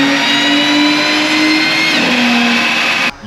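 A car engine revs hard and loud on a dyno run, holding a steady high drone before the pitch steps down. It cuts off abruptly near the end.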